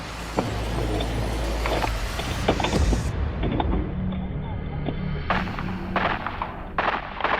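Sharp gunshots crack out in irregular bursts amid vehicle engine noise, some shots loud and close, others scattered, with brief moments of near silence.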